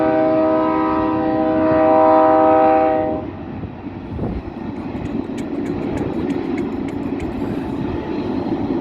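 A train rolls past on a hiking trail, its horn blaring in sustained harmonic blasts for about three seconds before the loud rumble of the cars carries on with faint clanking and squeals.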